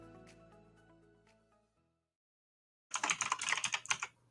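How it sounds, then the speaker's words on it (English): Fast bursts of typing on a computer keyboard in a morning radio show studio, dense clattering keystrokes arriving suddenly and close after fading tonal music and a short silence. "you can hear Ryan pounding away at the keyboards this morning."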